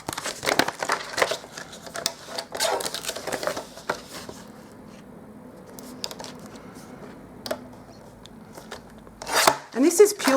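Scissors snip through a plastic cling sheet meant for holding rubber stamps, with crinkling and rustling of the thin material in irregular close bursts, then quieter handling and a sharp crinkle at the end.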